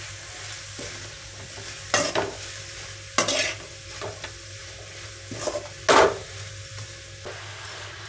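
A long ladle stirs noodles and cabbage frying in a pan, giving repeated scraping and clanking strokes against the metal over a continuous sizzle, close and fairly loud with no talking.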